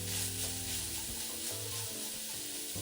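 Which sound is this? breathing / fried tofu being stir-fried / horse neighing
fried tofu being stir-fried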